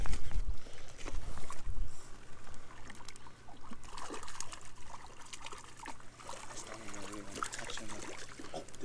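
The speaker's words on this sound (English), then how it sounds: "That's a pretty nice brook." A brook in the Sierra trickles and burbles steadily outdoors, a continuous watery wash with a few soft splashes and no talk.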